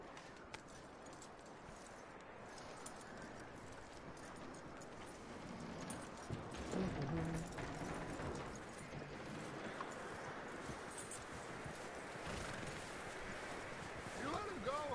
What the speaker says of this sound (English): Lead the horse.